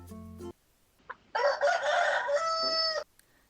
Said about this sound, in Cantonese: 冇錯啦，就係公雞把聲